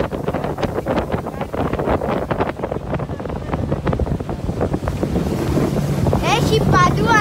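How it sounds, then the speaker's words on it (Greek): Strong wind buffets a boat on the water in Borneo during stormy weather, a continuous loud roar of gusts battering the microphone, with a few brief voices breaking through near the end. "Έχει παντού ανέμους,"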